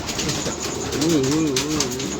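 A pigeon being handled gives a soft, close, rolling coo that rises and falls over a couple of seconds, with faint background noise and no talking.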